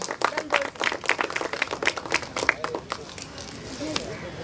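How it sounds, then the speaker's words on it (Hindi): An audience at a Christmas party claps loudly in a quick, uneven burst that tapers off after a few seconds, with a voice speaking over the applause. "ताली बजा दो जोर से।"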